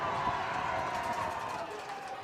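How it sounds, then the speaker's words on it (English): Crowd noise from spectators at a high school homecoming football game, a steady broad roar with some chatter running throughout, moderately loud and fairly distant. "Crowd making noise anyways."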